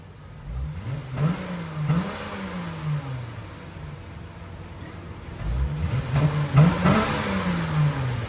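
A stock 2019 Dodge Challenger GT with a 3.6L V6 revs twice, each time climbing sharply in pitch and falling back, with a steady idle rumble between the blips.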